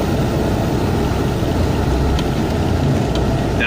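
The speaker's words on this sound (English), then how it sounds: "I'm going to step on the gas." A truck tractor's engine revs steadily as the driver presses the gas while parked for a brake test, with a loud, constant low rumble and no talking.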